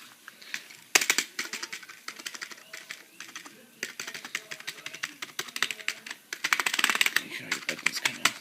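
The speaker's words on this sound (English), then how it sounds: "Make sure your buttons kind of click." Keys on a Dell computer keyboard click and clatter in quick irregular bursts during disassembly, close and fairly loud, with dense runs of typing-like taps and brief pauses throughout.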